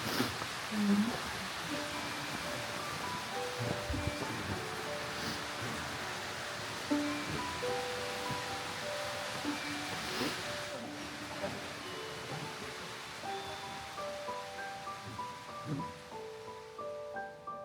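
A small waterfall in Takachiho Gorge rushes as a steady, soft broadband wash, fairly faint and continuous, with quiet background music over it and no clear talk.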